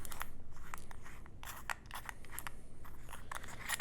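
Scissors snip and crunch through packaging ahead of opening a Master Lock dial combination padlock, a close, quiet series of quick cuts and crinkly scrapes at an irregular pace.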